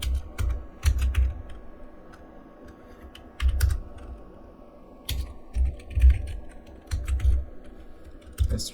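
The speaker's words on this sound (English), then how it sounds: "We type public." Steady clatter of typing on a computer keyboard while coding, close and fairly loud, with quick bursts of keystrokes and short pauses between them.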